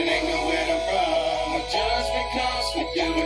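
Full original song mix of a track used for a cappella extraction, vocals over dense instrumental backing with steady bass, playing continuously at moderate level.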